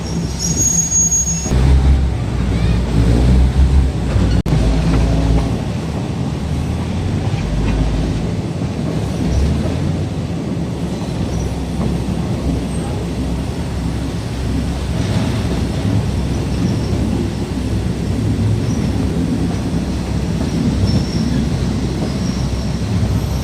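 Train cars rolling into Rang Pho station on the Maha Chai line, with a loud steady rumble and grinding wheel noise on the rails that runs throughout, along with a few brief sharp squeals near the start.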